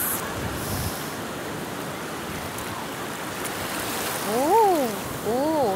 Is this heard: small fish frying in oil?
no